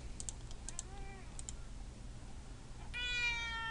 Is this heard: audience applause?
no